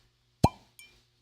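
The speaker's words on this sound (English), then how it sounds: "That's actually a pretty good cork pop." A cork pops from a bottle with one sharp, loud hollow plop up close, followed by a fainter second click in an otherwise quiet room.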